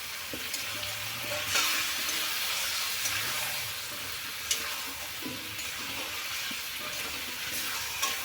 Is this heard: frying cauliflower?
yes